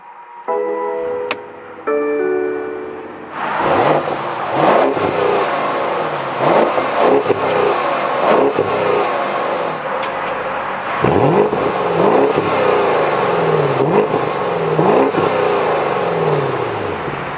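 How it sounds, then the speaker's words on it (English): A 2020 BMW 750i xDrive sounds a few electronic chimes, then its engine cranks and catches with a loud flare and settles into repeated throttle blips, each rev rising and falling close by with no talking. "with my foot on the brake, we can start it up"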